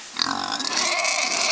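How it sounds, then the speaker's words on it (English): Pigs grunt and squeal close by at a farm, a burst of choppy snorts at first, then a longer continuous squealing grunt. "Emma, what do you think of these piggies?"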